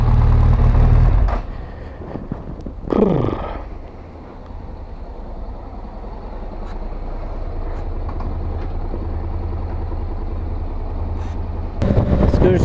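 BMW 1200 GS motorcycle engine running while riding, a steady low rumble with a brief louder rev near the start and a rising swell toward the end, fairly close and continuous.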